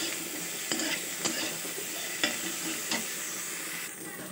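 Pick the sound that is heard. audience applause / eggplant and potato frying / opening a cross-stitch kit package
eggplant and potato frying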